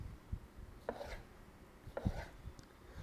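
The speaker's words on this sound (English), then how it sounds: "for cutting the fish, we're going to slice the fish down the end like this. We make little strips." A sharp Japanese knife slicing raw fish into strips for ceviche on a board, a few soft, close cutting strokes with light board taps in a quiet kitchen.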